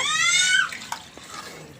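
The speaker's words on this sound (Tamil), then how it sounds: "இந்த நேரத்தில் வந்து தேவையான அளவு தண்ணி" Water poured into a cooking pot for seeraga samba rice biryani, a steady close splashing stream that tapers off, followed by a few soft clinks.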